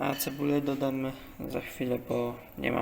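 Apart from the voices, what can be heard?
None of the usual background noises is heard.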